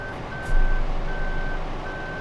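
A tractor reverses in Farming Simulator 2015: a steady electronic reversing beep repeats in evenly spaced tones over a constant engine drone, with a short louder bump near the start.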